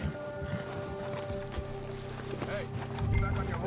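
A horse in the video game Red Dead Redemption 2 clip-clops along steadily through a storm, hoofbeats running continuously under wind noise and a faint whinny, with someone speaking briefly.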